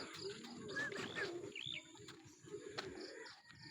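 Racing pigeons returning from a training flight, with faint cooing and soft chirps from a loft over low background rumble and a brief flutter.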